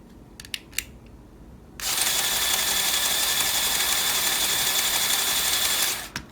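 An L motor fitted into a McLaren F1 model car spins up after a few clicks, then holds a steady high mechanical whir for about four seconds before cutting off, close and fairly loud.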